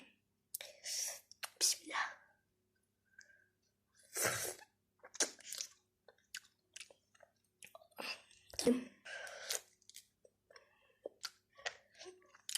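Close, wet chewing and biting of thick-cut grapefruit slices, coming in short irregular bursts with quiet gaps, now and then broken by brief voice sounds and a sharp intake of breath.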